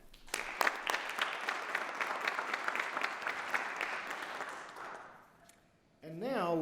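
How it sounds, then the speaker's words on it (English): An audience at a Samford University morning event applauds guests with steady, fairly close clapping that fades out after about five seconds, followed by a speaking voice. "Would you please join me in applauding our special guests for the morning, Presidents Knight and Warwick"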